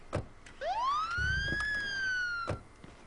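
A police car siren in the State of Decay video game winds up into a single rising wail and holds steady for about two seconds, loud and close, framed by soft thuds before and after.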